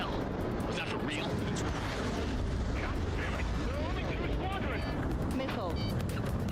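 A rumbling explosion rolls on as a platform is destroyed in a fighter jet video game, a continuous heavy roar with crackling bursts, while voices talk over it.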